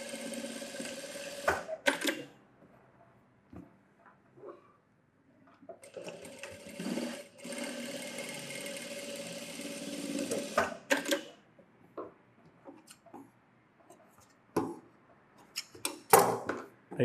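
A sewing machine stitches a blouse in several short, close bursts of rapid needle clatter. Quiet gaps and occasional handling clicks fall between the bursts, with no speech.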